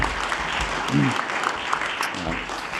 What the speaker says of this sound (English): Let's give everyone one more final round of applause for everything they achieved this year